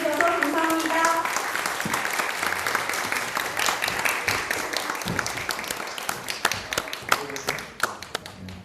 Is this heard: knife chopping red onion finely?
no